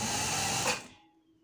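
A sewing machine stitching a shirt seam runs in a fast, steady whir for under a second, then stops and trails off into quiet.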